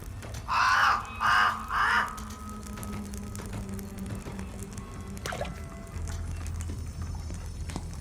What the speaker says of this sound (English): Black. I like the blackbirds.